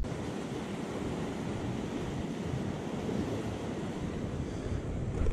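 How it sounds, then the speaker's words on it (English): Wind buffets the microphone on an evening shoreline as ocean waves wash in, a steady broadband roar of surf and gusts with no distinct breaks, fairly loud and continuous. "Wind's calming down."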